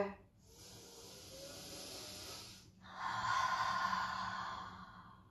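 Two long, slow exhales during a gentle seated yoga twist, breathy and close, the second stronger and brighter, with soft room noise between.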